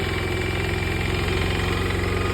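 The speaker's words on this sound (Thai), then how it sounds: "นี่ครับเร่งเครื่อง" An old Japanese Maruyama diesel sprayer pump engine with electric start runs steadily at high speed, a close, loud, rapid knocking drone without pauses.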